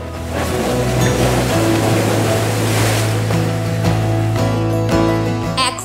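Sea surf breaking along New Digha beach, a steady loud wash of waves with a rumbling motor-like drone underneath and no voices.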